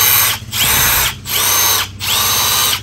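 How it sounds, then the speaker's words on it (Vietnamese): Milwaukee 12V cordless drill driver running, three steady high-pitched motor whirs in quick succession with brief pauses between them, loud and close with no talk. "Cây này mẫu mới, bắn vít mạnh lắm á."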